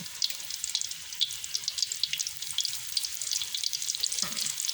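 Battered shrimp deep-frying in oil give off a steady, dense crackle and hiss that stays at an even level throughout, close up and with no voices.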